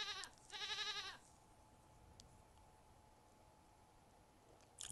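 A goat bleats once, a short wavering cry, in the puzzle game Rusty Lake Paradise, followed by quiet background ambience and a faint click.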